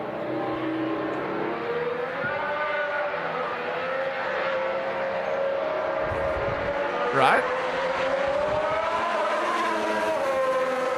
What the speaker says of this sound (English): This is the Mercedes coming through the last few corners at Silverstone.